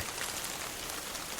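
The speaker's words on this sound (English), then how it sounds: "The rain will continue." Steady rain falls in a soft, continuous hiss, an even wash of drops with no voices over it.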